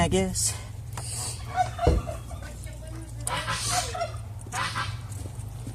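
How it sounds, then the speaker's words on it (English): Geese at a farm yard honking and cackling in the background, several scattered calls at moderate distance, with a person speaking briefly and a thud partway through. "You can hear our geese and everything going off in the background."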